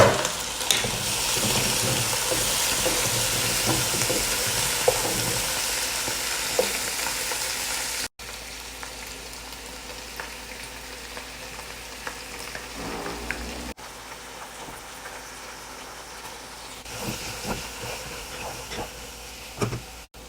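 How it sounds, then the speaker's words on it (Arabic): Small birds sizzling and steaming loudly in a covered cooking pot over medium heat for maqluba, a steady frying hiss that continues with a few lid knocks and slight dips in level. "لفيتهن كلهن داخل القدر، اسكر عليهن واخليهن 5 دقائق على نار وسط."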